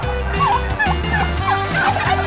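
Several turkeys in a pen holding about 80 birds, in Blitar, East Java, gobble and call repeatedly, close and loud, with music playing underneath.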